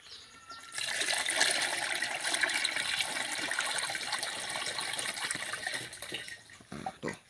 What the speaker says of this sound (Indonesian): Langsung kita tuangkan ke dalam tangki kocornya.